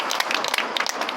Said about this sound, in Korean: 힘찬 박수 다시 한번 부탁드립니다